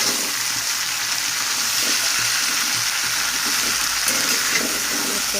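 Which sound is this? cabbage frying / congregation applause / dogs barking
cabbage frying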